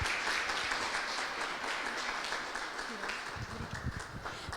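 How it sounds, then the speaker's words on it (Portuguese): A church congregation applauds at an evening worship service to welcome a woman pastor, with steady broadband clapping throughout and a few voices and murmurs rising beneath it near the end. "Vamos receber ela com palmas nessa noite."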